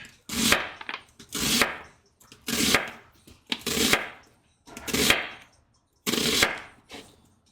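Knife chopping onions on a cutting board while making a French dip sandwich: six bursts of quick, fairly close chops, separated by short pauses, with no talking.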